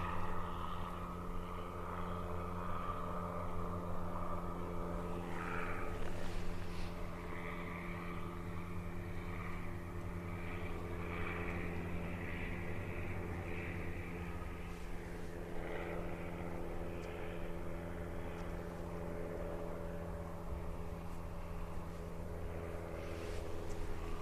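A Blackburn Buccaneer jet fast taxiing along the runway at Cotswold Airport, a steady sustained engine roar with whining tones, moderately distant and continuous throughout with no voices.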